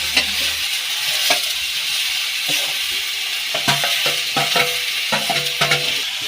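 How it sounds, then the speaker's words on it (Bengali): Taro stems hit a pan of fried spice paste and sizzle steadily while a utensil stirs, scraping and clinking against the pan in irregular knocks. "এখানে মশলা কষানো হয়ে গেছে, আমি লতা ঢেলে দেবো এখন।"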